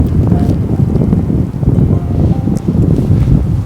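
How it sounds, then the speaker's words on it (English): Strong wind gusting outdoors on public land during a ground bowhunt, a loud, constant low roar buffeting the microphone throughout with no talking. "Wind's really coming up strong"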